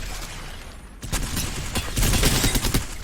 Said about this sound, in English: I'm gonna sit here and practice with the L-Star